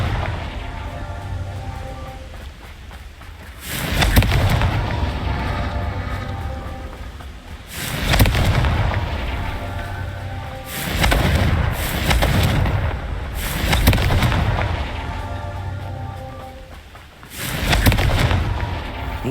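Repeated Confringo fire-spell blasts in the Hogwarts Legacy video game, five heavy booming bursts spaced a few seconds apart, each trailing into a crackling, rumbling decay.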